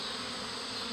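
Honeybees feeding on sugar syrup at a trough create a dense, continuous buzzing hum, close and steady throughout one second, with no voices.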